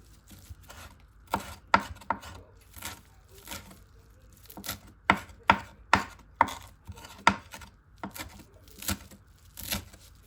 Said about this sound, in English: Let's go ahead and cut it up.